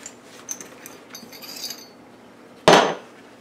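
Hammer striking near a Husqvarna chainsaw crankshaft while the inner bearing race is knocked off in a workshop, light clinks and rustles followed by one loud sharp metallic hit near the end.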